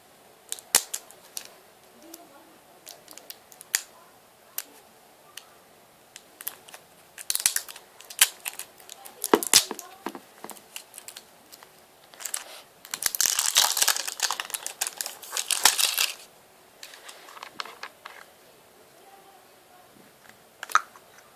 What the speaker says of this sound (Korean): 이거를 이거를 한번 제가 뜯어볼게요